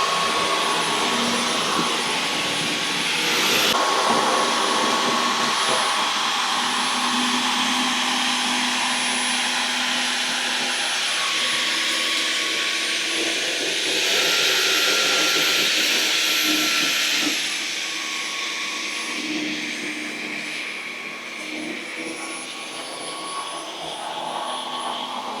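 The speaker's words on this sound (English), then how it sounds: "I'm just going to vacuum up in the kitchen up here" A Dyson V15s Detect Submarine cordless vacuum running in a kitchen, a loud, steady high-pitched whine and airy hiss that surges twice as if power changes, then settles slightly quieter.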